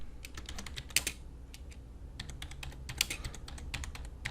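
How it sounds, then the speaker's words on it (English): Typing on a computer keyboard while laying out a simple design, a quick run of close, crisp key clicks with a brief lull in the middle before the tapping resumes. "we'll click and we'll type in"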